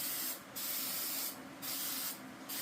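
Rust-Oleum hammered spray paint comes from a can in three short, close bursts of hiss, each about a third of a second long, separated by quieter pauses.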